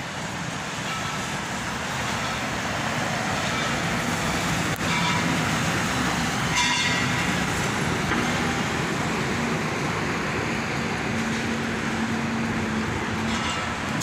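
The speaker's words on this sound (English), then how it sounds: "The underground train, as you can hear, pakam, pakam, pakam" An underground fast train runs beneath a city street, a continuous rumbling roar with faint rhythmic clatter and a low hum, steady throughout at fairly close range.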